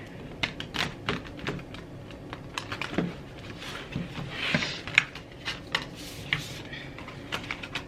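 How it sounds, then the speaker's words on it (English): Tarot cards being shuffled, a stiff, hard-to-shuffle deck, giving quiet, uneven clicks and riffling taps spread through the stretch, close and fairly soft, with no talking. "Only thing about these cards is they're so hard to shuffle."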